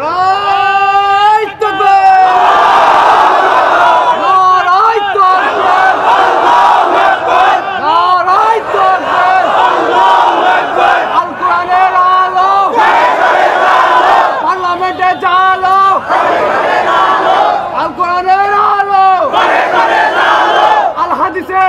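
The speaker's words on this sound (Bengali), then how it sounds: "এই স্লোগান, আরে দেন, আবার স্লোগান দেন না দেখি।" A large crowd at a Bangla religious sermon gathering in Dhaka chants a slogan in loud, rhythmic unison, repeated call after call with a leader's voice leading between the crowd's responses.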